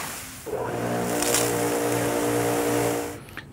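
A Kärcher electric pressure washer pump runs up with a strong, steady motor whine and buzzing harmonics, loud and close, holding for a few seconds before cutting off near the end.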